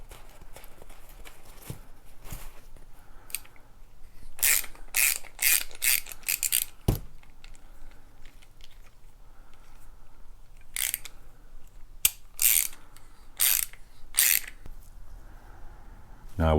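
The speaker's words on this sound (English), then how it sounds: "Now we've made our thread in there." A hand ratchet clicks in quick bursts while a tap cuts thread into a small-block Chevy oil filter adapter housing. The close metallic clatter comes in uneven spurts with quiet gaps between them.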